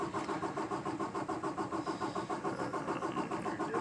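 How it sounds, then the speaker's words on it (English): A 2018 Peterbilt 579 truck engine with a hard-start fault cranks on and on without catching, a steady rapid rhythmic churning of the starter that stays loud and even throughout. "Just cranking and cranking and cranking."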